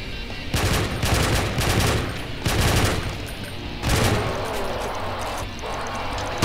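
Rapid weapon fire in DooM Sigil (gzdoom, Deimos Anomaly level), loud repeated bursts of shots in several volleys of automatic fire with brief pauses between, close and dominant.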